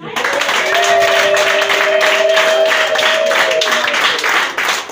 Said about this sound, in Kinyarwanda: Amashyi kwa Yesu.